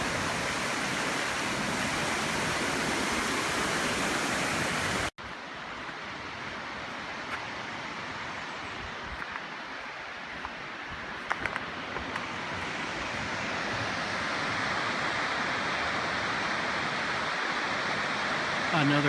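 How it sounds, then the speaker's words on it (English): Chapel Falls at Pictured Rocks in Michigan roars as a strong, steady waterfall, a dense broadband rush that runs continuously, louder in the first few seconds and then settling into a slightly softer constant wash. "The waterfalls are running real strong."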